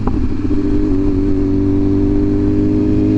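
A 2023 BMW S1000RR sport bike holds a loud, steady high rev close by. The engine note is strong and even, with a sharp blip at the start and another at the end.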